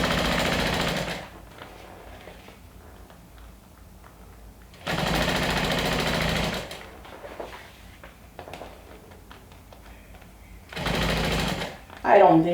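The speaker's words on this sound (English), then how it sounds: "we're going to stitch the long strap with an 1/8 of an inch seam allowance." A sewing machine stitches a long fabric strap with an eighth-inch seam allowance, running in three loud, steady bursts separated by quieter pauses with soft handling sounds and a brief voice at the end.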